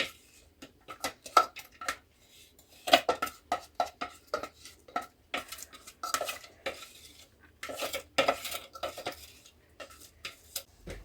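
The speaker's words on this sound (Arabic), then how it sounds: "ننزل في البصل، نجهزه كده في الطاسة" Chopped onion tipped into a frying pan while preparing a baked fish tajine, heard as a run of close clattering knocks and scraping taps of utensil on pan, irregular and fairly quiet, with no voices.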